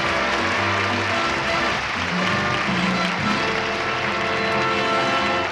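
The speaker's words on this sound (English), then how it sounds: "A nice round of applause for Doug." Studio audience applause on a 1972 syndicated game show, a broad continuous wash of clapping with music or hum underneath, lasting the whole stretch.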